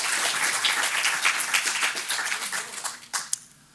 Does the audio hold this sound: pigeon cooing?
no